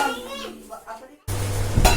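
Pots, pans and dishes being washed give a brief, close clatter of metal right after someone speaks.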